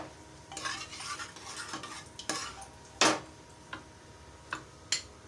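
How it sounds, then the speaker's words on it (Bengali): A spoon scrapes and clinks against a pan while scooping hot chana, chickpea curry, giving soft stirring rustles broken by several sharp metallic taps, close and quiet. "চানা তুললাম"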